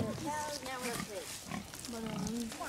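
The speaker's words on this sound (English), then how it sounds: "What are they doing? Snorting." Farm pigs snort and grunt in a steady, close jumble, with people talking over them throughout.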